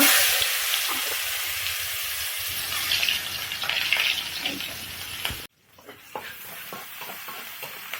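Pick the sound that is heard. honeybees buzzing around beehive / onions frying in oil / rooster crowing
onions frying in oil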